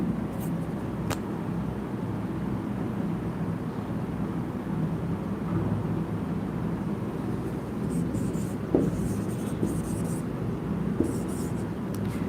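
Marker writing on a board during a class on blood circulation: soft intermittent scratching and squeaking strokes, faint and close, beneath a steady room hum, with brief taps as the pen touches the surface.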